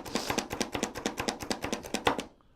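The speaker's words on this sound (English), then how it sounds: "you're going to chop up your pickles, you're chopping up your onions" A knife chops pickles on a cutting board in a home kitchen, a fast, even run of about a dozen crisp close taps that stops abruptly at the end.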